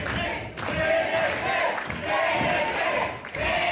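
Crowd at a House of Pain wrestling event in Beeston, a loud, continuous roar of cheering and shouting that swells and dips, with a few dull thuds underneath.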